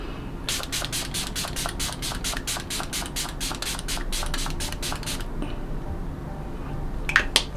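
Makeup setting spray, a glow formula, misted in a long run of about twenty quick, evenly spaced hissing bursts close to the mic, followed by quiet with a couple of small clicks near the end.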